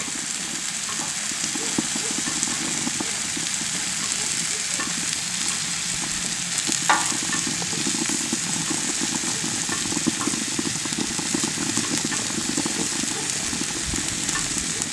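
Pork sizzles steadily on a Himalayan salt block set on a grill, a continuous even frying hiss with a few faint pops, heard up close and alone.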